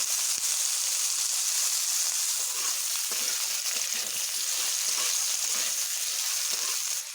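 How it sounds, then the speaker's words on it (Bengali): Sliced potatoes fry in oil in a wok, producing a loud, continuous bright sizzle with occasional soft stirring clicks and pops throughout, and no talking. "এবার আমি কেটে রাখা আলুগুলোকে ভেজে নেব।"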